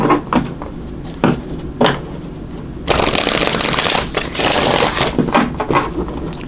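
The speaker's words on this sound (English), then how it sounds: "Just going to do a quick shuffle." Oracle cards are shuffled in a few quick riffles, then a longer steady burst of rustling and flapping, close and fairly loud with no talking.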